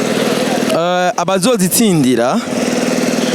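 Motorcycle engines running and revving nearby in Muyinga, Burundi, loud and rough, with a voice speaking briefly over the engine noise.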